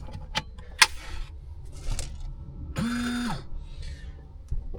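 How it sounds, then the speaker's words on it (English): A small water pump motor in a camper electrical system whirs on for about half a second with a steady hum, then winds down, amid faint clicks and handling noises. "you should hear the motor come on"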